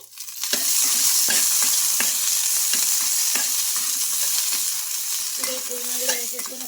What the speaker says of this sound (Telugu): మిర్చి కూడా మనకు బాగా ఫ్రై అయిపోవాలి